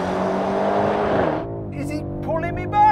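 BMW M5 Competition launching hard off the line against a Mercedes-AMG E63 S, loud engine roar rising then cutting off abruptly, followed by quieter engine drone with a brief tire-squeal-like whine, heard from close by.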